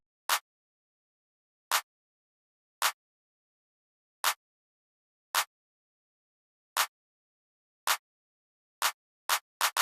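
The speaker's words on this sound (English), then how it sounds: "I came up with this simple clap pattern." Crisp, isolated claps land one after another in an uneven, swung rhythm, ending with a quick flurry of closely spaced hits, a pattern for an Afro dancehall-style beat.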